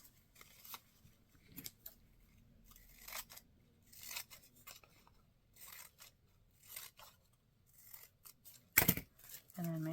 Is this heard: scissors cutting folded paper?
yes